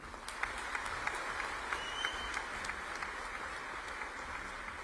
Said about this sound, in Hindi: और एक बार तालियां जोरदार हो जाएगी।